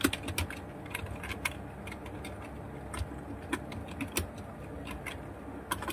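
Steady typing on a computer keyboard, with quick irregular key clicks and occasional louder strokes running close and continuous throughout, with no talking.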